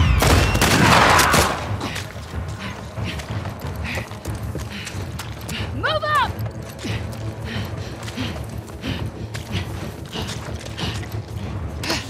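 Gunfire in The Last of Us Part II, a loud blast at the start followed by steady rattling, mechanical clicks and sporadic shots through a tense firefight, with little talk.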